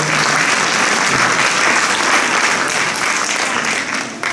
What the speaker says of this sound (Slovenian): pa še en aplavz za te lepe predstavitve